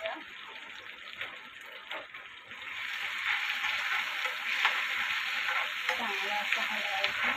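A spicy gram flour mixture with curry leaves, crushed garlic and chilli fries in a pan, a steady hissing sizzle that grows louder partway through, with intermittent scraping from stirring and a faint voice in the background.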